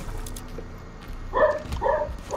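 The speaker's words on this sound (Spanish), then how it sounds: "mi perro ladrando" A pet dog barks indoors: a few short, sharp barks in quick succession near the end, heard over a low background hum, with no talking.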